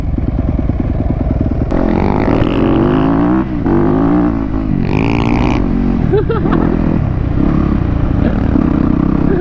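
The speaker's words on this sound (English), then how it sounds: "It looks like a legit dirt bike" A dirt bike ridden at a track, loud engine droning and revving up and down throughout with clattering mechanical noise, a voice talking over it.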